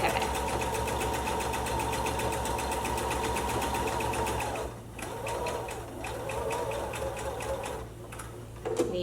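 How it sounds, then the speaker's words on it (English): A sewing machine stitches a Christmas stocking with a fast, steady motor whir, pausing briefly mid-way before running again at a slightly uneven pace around a curve. "When you get to the curves, sew slowly, lift and pivot, and lift and pivot."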